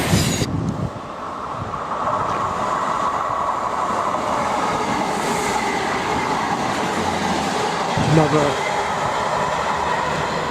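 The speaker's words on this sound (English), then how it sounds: "Norwich to Liverpool train." A Norwich to Liverpool passenger train rumbles steadily through a station at close range with a broad roar and faint rail clatter, a brief voice heard near the start.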